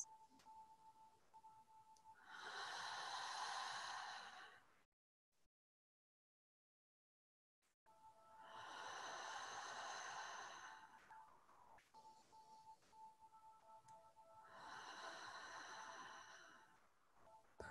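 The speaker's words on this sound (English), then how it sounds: "Ujjayi breath." Slow, audible ocean-like breathing during a yoga class, with long drawn breaths swelling and fading in a steady rhythm and a short silent gap between them, close and soft.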